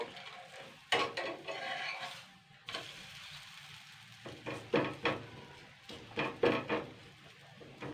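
Potato and flour snacks fry in the oil left in the pan, with a soft steady sizzle beneath, interrupted by sharp clinks and scrapes of a spatula stirring and turning the pieces.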